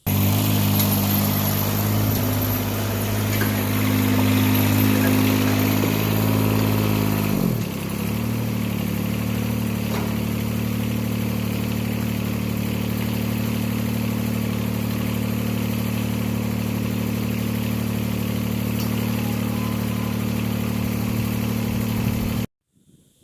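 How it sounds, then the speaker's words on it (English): A 332 tractor's Yanmar diesel engine idles nearby, a steady mid-low chug that shifts pitch slightly partway through and holds, then cuts off abruptly at the end. "This is a 332 with a Yanmar diesel engine."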